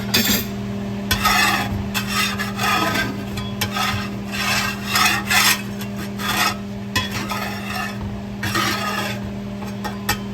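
Stiff brush or scraper scrubbing a Camp Chef 14 inch cast iron skillet, a steady rasping rub in repeated strokes, close and moderately loud, over a constant low hum with no talking.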